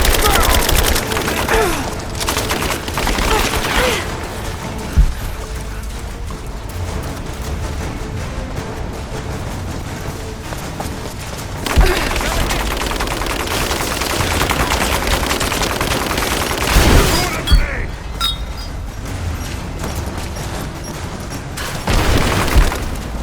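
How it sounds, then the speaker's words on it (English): Sustained automatic gunfire and bursts of shooting in the Rise of the Tomb Raider video game, loud and dense with occasional heavier booms, with shouted voices in the mix. "I'm under fire!"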